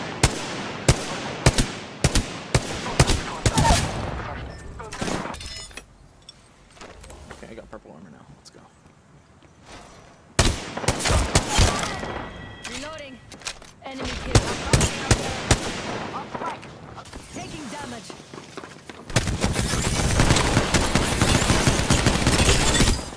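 Gunfire in the video game Apex Legends comes in loud, rapid bursts and single cracks, with quieter lulls between fights and a dense stretch of firing near the end.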